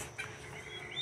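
Free-range chickens and young turkey chicks cluck and peep close by in a short burst, soft overlapping calls with a few higher chirps.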